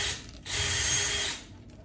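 A kitchen mixer faucet fitting being tightened by hand gives a short mechanical ratcheting rasp. A brief burst swells in the middle and then fades, close and alone with no talk.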